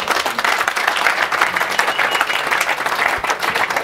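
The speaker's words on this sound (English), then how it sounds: "Give yourselves a hand." Audience applause at a party event, dense clapping from a crowd filling the room continuously, loud and near, with a few faint voices mixed in.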